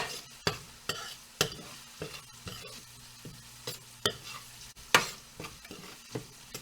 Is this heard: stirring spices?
yes